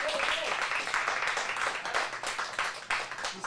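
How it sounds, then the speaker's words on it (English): A group of kids in an acting class applauds after a scene, steady, dense clapping at moderate distance for a few seconds. "round of applause"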